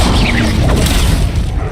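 A fire spell bursts out loud and close in Hogwarts Legacy, a sharp whooshing blast with crackling, fading over under two seconds.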